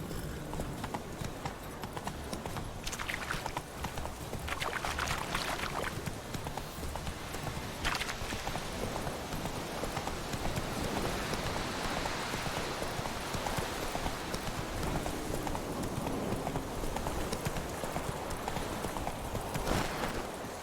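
Roach the horse's hooves clop steadily in The Witcher 3, a continuous rhythmic beat of hoofbeats that lasts about twenty seconds at a moderate, even level with occasional louder strikes.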